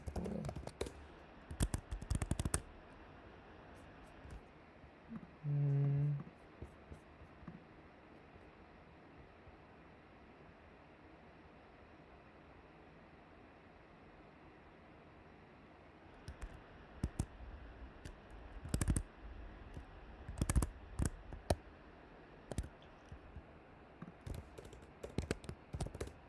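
Quiet computer keyboard typing during a live coding session, scattered bursts of clicking keystrokes near the start and a denser run of taps toward the end, separated by a long stretch of near silence.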